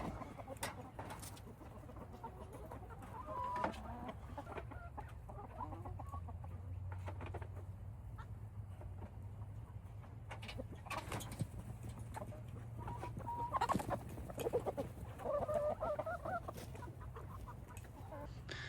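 Hens cluck and murmur in a backyard chicken pen, several birds calling on and off at moderate distance over a steady low background hum.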